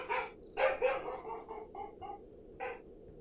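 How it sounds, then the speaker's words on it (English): A dog barks several times in quick succession, a cluster of sharp barks followed by one more after a brief pause, heard from a moderate distance. "The dog is going ballistic."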